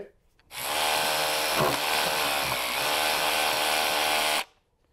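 A power drill with a bit boring a hole into a drywall-type deck board, one steady high whine lasting about four seconds with a sharp start and stop.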